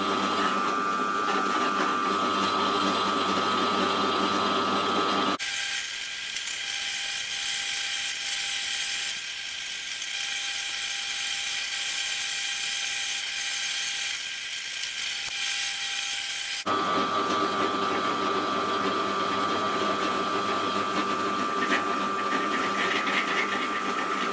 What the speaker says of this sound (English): But it's drilling nice.